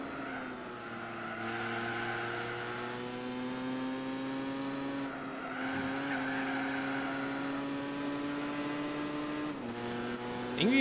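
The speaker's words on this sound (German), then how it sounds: "Irgendwie gefällt mir sogar der Motorsound hier." A race car's engine in the Gran Turismo 4 video game drones steadily at high revs, with a sustained whine and brief dips where it shifts gears, continuous throughout.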